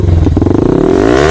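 Yamaha R15 V3 motorcycle fitted with an Akrapovic exhaust, revving loudly up close: a throaty, pulsing exhaust note that climbs sharply in pitch over about a second.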